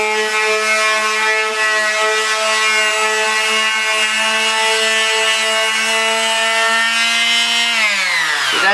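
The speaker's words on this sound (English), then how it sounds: "on a quick sanding." Quick hand sanding over a drywall patch scrapes away ridges in a continuous rasping stroke up close, then trails off at the end.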